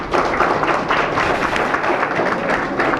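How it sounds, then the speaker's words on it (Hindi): Audience clapping at a Class 12 farewell function held in the courtyard of BSN School, Devi Nagar, a steady, loud wash of many hands filling the whole stretch with no talk over it. "इस बात के लिए भी ताली बजाएं।"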